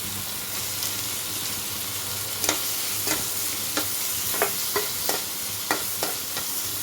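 Chopped onion and green chilli with potato frying in a pan for sabudana, a steady sizzle throughout with a few sharp spatula scrapes and taps spaced through the clip.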